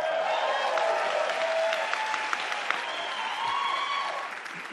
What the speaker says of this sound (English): A lot of people out here clapping for you, man.